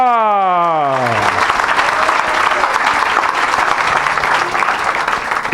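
A church congregation bursts into sustained applause and cheering after a rising musical swell, dense and loud throughout, a large crowd clapping continuously near the listener.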